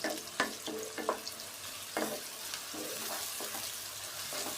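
Onions roast in a pan for methi aloo, a steady sizzle broken by repeated scraping stirs at an uneven rhythm, close and fairly loud, with no talk.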